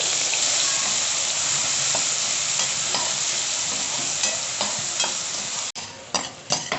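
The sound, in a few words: finely chopped onion sizzling as it is fried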